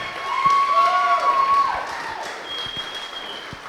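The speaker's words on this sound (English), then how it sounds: "Round of applause, Mr. Kramer." Wedding guests at a reception applaud in a short burst of clapping that fades within about two seconds, with a sustained tone and voices talking over it.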